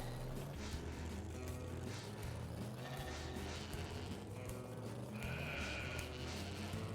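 Sheep bleat in the video game Ty the Tasmanian Tiger 2, a brief nasal call rising over a steady bed of game music and ambient hum.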